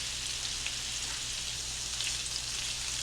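Meatballs browning in a skillet, a steady soft sizzle with faint crackles, close and unbroken, with no talking.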